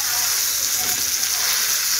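A homemade hamburger patty fries in a hot pan, with a loud, steady, close sizzle and crackle throughout.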